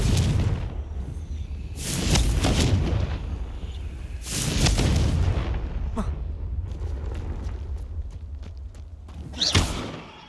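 Confringo spell blasts in Hogwarts Legacy go off as three heavy booming explosions spaced a few seconds apart, each with a rumbling tail, mixed with lighter thuds and impacts.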